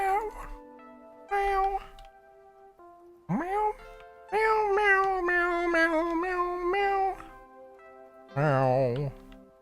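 Several cat meows from the game Minecraft, clear tonal calls in short bursts separated by gaps, with a longer wavering yowl near the end, a voice speaking in between.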